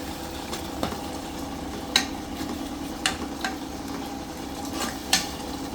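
Tomatoes being stirred into a simmering fish curry, a soft continuous sizzle beneath several sharp spoon scrapes and clicks spaced a second or so apart, close and without talk.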